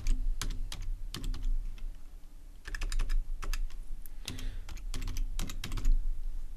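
Someone types an address into a search field in Garmin BaseCamp route-planning software on a computer keyboard, producing quick irregular bursts of close, crisp key clicks with short pauses, and no one talks.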